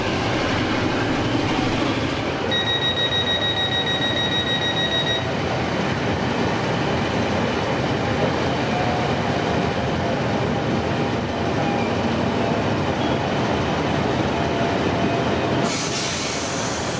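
A train rolls past in the Muncaster Castle area, a loud, continuous rumble and clatter of wheels on rails lasting throughout, with a brief high tonal squeal early on.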